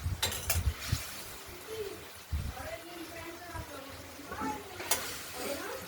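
Spice paste fries and sizzles in a pan while being stirred, with soft scraping and the clink of a utensil against the pan, quiet and close, with a voice speaking faintly in the background.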